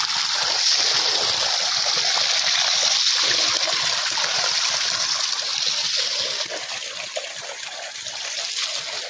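Water pours steadily into a rice paddy field, a loud, constant close-up gush and splashing rush that continues without a break.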